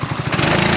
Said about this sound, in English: I told him to rev the engine and he did it.